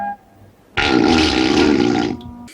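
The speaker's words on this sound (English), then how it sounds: "A fart." A loud, sustained comedic fart sound effect from a frat comedy film, a single buzzy blast lasting over a second that cuts off abruptly, alone without talk.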